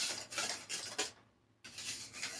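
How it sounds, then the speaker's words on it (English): A whisk beating milk into batter in a mixing bowl, giving rapid scraping, rhythmic strokes that come in three close bursts with a short pause between, no voices. "Then we're just going to whisk until completely combined."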